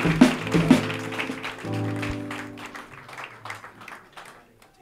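A church congregation at a Paris convention claps loudly, dense applause over sustained organ or keyboard chords and voices, gradually thinning and fading toward the end.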